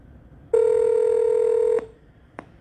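An automated phone menu gives a single steady telephone keypad beep lasting just over a second, loud and clear, followed by a short click and quiet background.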